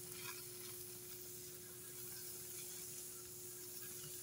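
Steak cooking over an outdoor campfire in cold weather gives a steady, close sizzle with faint crackle, continuous and even throughout with no talking.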